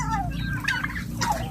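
On a backyard farm where turkeys, chickens and ducks are being fed, a turkey gobbles nearby in two short, loud, warbling bursts over a low background rumble.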